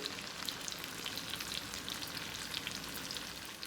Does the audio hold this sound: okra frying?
yes